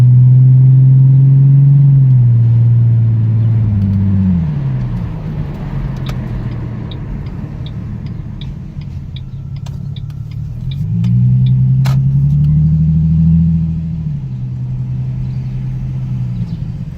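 A 2009 Mustang V6 with an aftermarket exhaust revs twice, each rev a deep, loud swell of engine note that climbs and falls back to a lower rumble between them.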